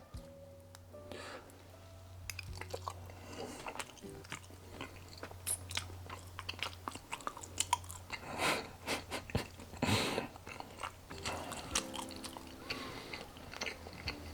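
A big cooked piece of Shades by Niko is bitten and chewed up close, with repeated crunchy bites and wet mastication that grow busier toward the middle, over a faint low hum.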